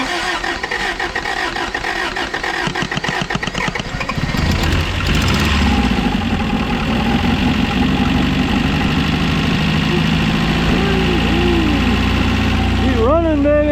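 A 1985 Toyota pickup engine cranking, then catching and settling into a loud, steady idle with a slight rattle, close by; someone talks excitedly over it near the end.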